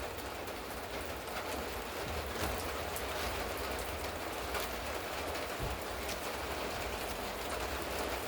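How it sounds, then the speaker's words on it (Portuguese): Light rain falling steadily, a soft continuous hiss of drops on surfaces with a few brief louder patters, even and unbroken throughout with no voices. "Ô, que chuvinha boa, hein?"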